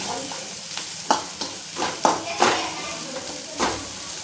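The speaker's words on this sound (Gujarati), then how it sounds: "મેગીનો મસાલો એડ કરી સરસ રીતે આ મિક્સ કરી દેવાનું છે" Maggi noodle masala and homemade spice mixture is stirred in a pan, producing repeated scraping strokes and light clinks over a soft, continuous sizzle.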